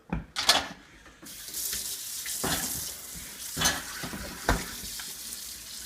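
Tap water runs steadily into a sink as a dish is rinsed off while pancakes are being made, with a few louder splashes and clatters near the start and intermittent surges in the flow.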